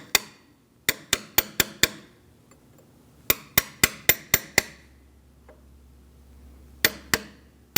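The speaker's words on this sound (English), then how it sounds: "gently use a punch and just give it a little tap until it bottoms out" Metal punch tapped against a brake part on a 2000-2006 Mini Cooper during a front brake job: sharp, close metallic knocks in quick bursts of five, then six, then two, with quiet pauses between them.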